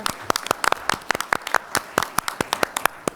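Audience at a League of Women Voters 2024 candidates forum applauding the timers: dense, close hand clapping with crisp individual claps, loud and continuous for a few seconds.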